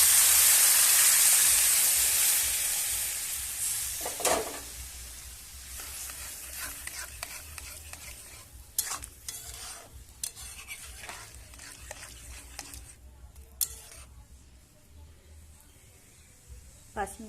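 Boiled lentils tipped into a hot pan for tarka, starting with a loud hissing sizzle that fades into softer frying, broken by repeated scraping stirs and spoon knocks.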